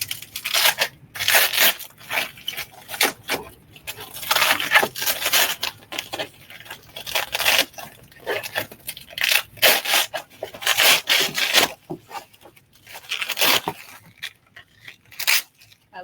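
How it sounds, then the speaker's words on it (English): Bubble wrap packaging from a paper-craft supply order is pulled and unwrapped up close, with loud bursts of crinkling, rustling and crunching that come in irregular clusters and pause briefly between handfuls. "And more bubble wrap, so turn off your volume."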